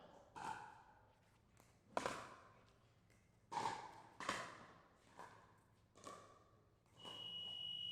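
A long end-of-match buzzer sounds at a mixed intermediate division sports game, a steady tone starting about seven seconds in and holding to the end, after a run of sharp bursts from play and the crowd.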